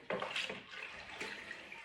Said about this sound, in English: I'll get my sterilised stirring stick. Give it a good stir.